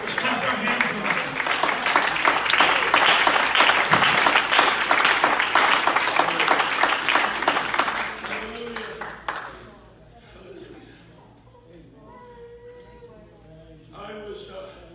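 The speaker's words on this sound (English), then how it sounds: "Let's clap our hands and pray." A church congregation claps together in a loud, sustained burst for several seconds before it dies away into quieter room sounds and scattered noises.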